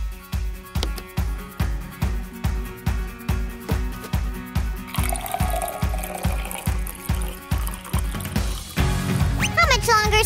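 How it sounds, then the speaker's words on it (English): Drink pouring from a DIY cardboard soda vending machine, preceded by a steady mechanical clicking pump rhythm, then a running liquid stream filling a cup, with voices talking over it. "Sue, just pour me something. I'm thirsty."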